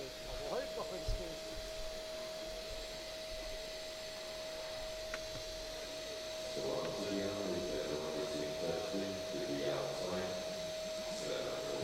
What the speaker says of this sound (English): We're just cleaning up the platform with our IPF approved vacuum cleaner